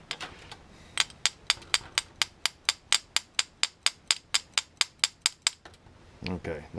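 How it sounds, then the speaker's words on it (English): An even tinier hammer drives a part into a 1979 Honda ATC three-wheeler carburetor, making a steady run of roughly twenty crisp, ringing metal taps, with a voice starting at the end. "Sometimes you have to break out an even tinier hammer."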